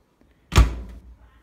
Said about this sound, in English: The door is easy to open and close.